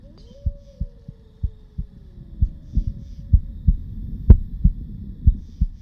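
A slow, steady heartbeat thumps close and clear, about two beats per second in soft low pulses, with a faint hum and a brief sharper tap partway through; no talking over it.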